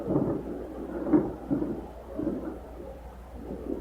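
Rain with rumbling thunder during an outdoor gathering, a steady low wash of rainfall broken by several deep rolling rumbles, moderately loud and continuous with no voices.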